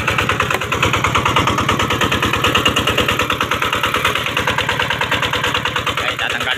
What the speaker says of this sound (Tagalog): Kapatay natin yung makina ni Kabadi.